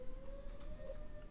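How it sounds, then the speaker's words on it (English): A tornado siren wails as one steady, sustained tone throughout, faint and distant, heard over low background rumble with no talking. "It's just a tornado siren."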